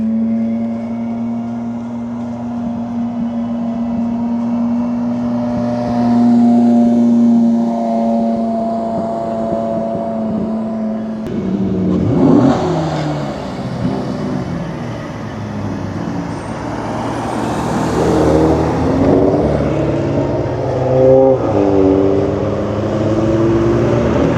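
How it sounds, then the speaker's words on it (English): An Audi burbles as it drives in at a cars-and-coffee event beside a track, its low engine tone rumbling steadily and swelling through the clip with no talk over it. "Burbles on that Audi."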